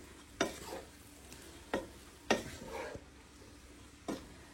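Spoon stirring a mixture of chopped coriander and rice in a pan, four or five distinct scraping strokes at an uneven pace over a faint background sizzle.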